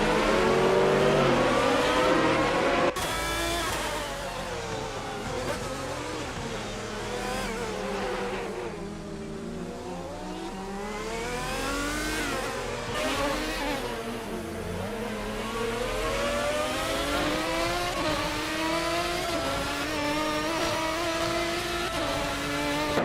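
GTR-class race cars, including a Maserati and a Lamborghini, accelerating in a racing video game. Several engines rev and wail upward through the gears in overlapping sweeps, loud and continuous, with one sharp break early on.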